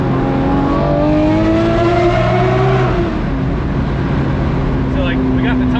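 A gated Lamborghini Murcielago engine revs through a downshift, its rising and falling harmonic whine loud and close inside the car, with people talking over it.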